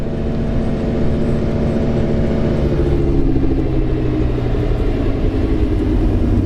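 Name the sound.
Nissan S15 drift car engine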